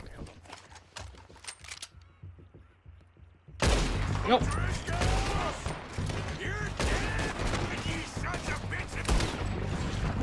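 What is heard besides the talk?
gunshots in video game Red Dead Redemption 2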